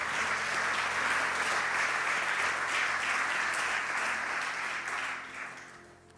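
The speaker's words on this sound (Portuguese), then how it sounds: "Aplaudimos a Jesus, né?" A church congregation claps together in worship, a broad, even wash of applause from many hands that holds steady and then tapers off at the end.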